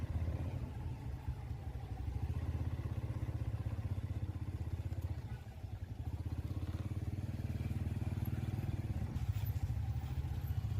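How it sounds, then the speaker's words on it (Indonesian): Motorcycle engine drone runs continuously through busy street traffic in Bukittinggi, with a steady mid-pitched hum of passing motorbikes and vehicles close by, no talking. "di Kota Bukit Tinggi ada peningkatan volume kendaraan"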